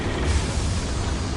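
An incendiary spell cast in Hogwarts Legacy bursts out as a short, loud, dense rush of fiery noise with a deep rumbling low end, filling the space for over a second.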